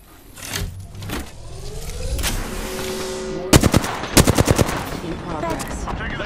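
Bursts of automatic gunfire ring out in a shooter video game amid engine and mechanical noise, with rapid rattling volleys up close and loud against a busy background.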